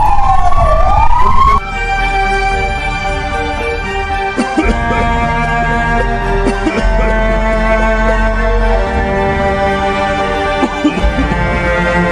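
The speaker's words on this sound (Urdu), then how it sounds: "ایمبولینس بھی آ گئی ہے۔" An arriving ambulance sounds its siren: a rising wail that gives way to a loud, sustained, layered tone, close and continuous with only faint background activity.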